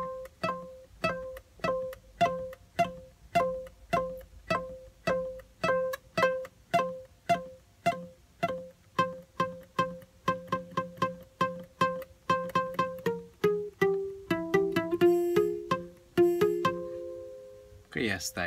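Guitar melody phrase for a song tutorial: a steady run of clearly picked single notes, moderately loud and close, ending in a few sustained, slid tones, with no talking.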